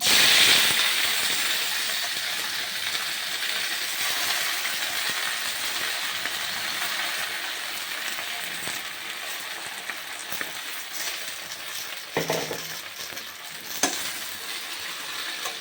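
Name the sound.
gongura leaves frying in oil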